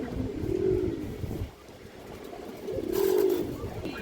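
Indian high-flyer Kaldam pigeon, a big male, cooing in two low, throaty bursts about two seconds apart, close by, with faint background noise and no talk.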